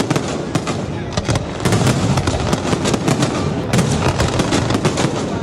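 Diwali fireworks display over the sea and sky at Al Seef in Dubai, a dense, continuous barrage of loud cracks and booming bursts rolling on without pause and growing even more intense partway through.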